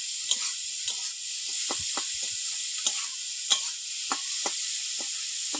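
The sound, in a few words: prawns lightly frying in a pan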